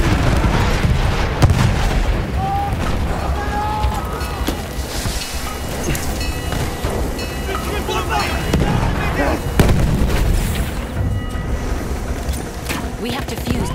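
Booming artillery explosions and scattered gunfire in the Battlefield 1 video game roll on steadily throughout a dense battlefield soundscape, with distant blasts layered over continuous rumble and faint voices.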